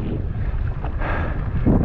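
Strong, gusty wind buffeting the microphone during a stand-up paddleboard crossing of Lake Constance in stormy weather, a loud continuous low roar with surging gusts.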